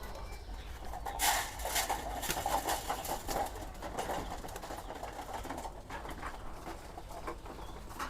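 Pigeons coo steadily from a rooftop, a soft, continuous, overlapping murmur of several birds at moderate distance with a faint outdoor hiss beneath.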